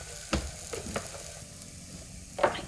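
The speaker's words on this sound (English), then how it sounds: "I promise I never normally use this much butter to fry my pancakes" Pancakes frying in a generous amount of butter in a pan give a soft, steady sizzle, with a few brief louder crackles and scrapes rising above the low hiss.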